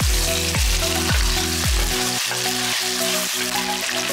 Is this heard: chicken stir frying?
yes